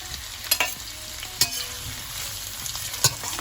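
Green and yellow capsicum stir-fried in a pan, with a steady soft sizzle broken by a few sharp clacks of a spatula stirring, close and moderately loud with no talking.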